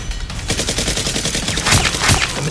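Rapid gunfire in a Nerf gun action film, a mysterious figure shooting a soldier dead: a dense, loud burst of fast repeated shots running continuously for a couple of seconds, growing sharper toward the end.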